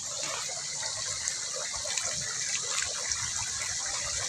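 Steady rain pours down in a continuous broadband wash, loud and close like water gushing off a roof or spout, with no talking over it.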